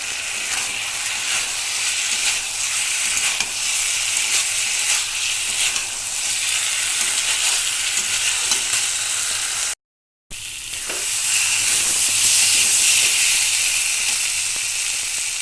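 Spices and a little sugar stir-frying in a pan, giving a loud continuous sizzle and hiss with the scrape of stirring throughout, briefly cut off, then resuming slightly louder.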